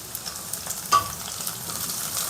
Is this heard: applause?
no